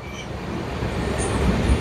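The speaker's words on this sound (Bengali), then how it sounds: "এই জাস্ট হাওড়া স্টেশন থেকে আমাদের ট্রেন ছাড়লো" The Radhikapur Express pulls out of Howrah station: a steady, close rumble of rolling rail wheels and carriages that builds slightly over two seconds, with no voices.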